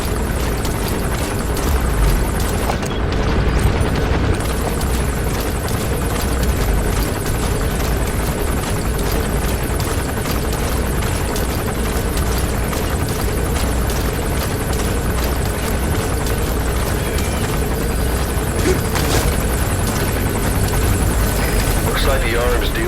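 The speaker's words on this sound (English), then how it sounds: "Like the arms dealer's chopper is gonna patrol for the security forces." An arms dealer's helicopter in the Metal Gear Solid V stealth video game makes a loud, steady rotor drone with constant beating that runs without letup for the whole stretch, heavy and close.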